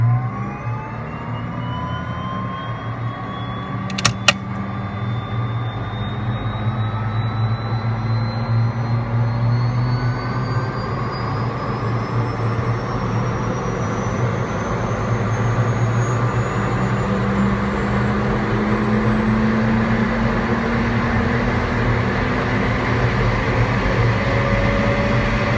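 Aircraft turbine engine idling low after a spool-up start, giving a steady, continuous drone with a slow rising whine, plus a brief click near the start.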